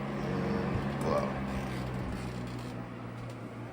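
A Vornado Model 80 box fan running on its low setting gives off a steady, soft, even whoosh of moving air with a faint low hum. It holds unchanged throughout with no voices.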